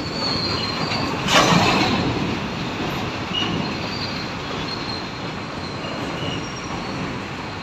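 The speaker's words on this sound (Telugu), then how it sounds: "ట్రైన్లు అయితే వస్తున్నాయి, అదే విధంగా వస్తున్నాయి." A train passes on the railway track near an underpass bridge construction site in Anantapur, a loud continuous rumble of wheels with a brief sharp squeal or clank early on, fading slightly toward the end.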